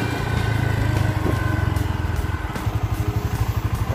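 A motorcycle engine putters steadily up close as the bike rides toward a fishing well, with a low rhythmic thrum that pulses harder near the end.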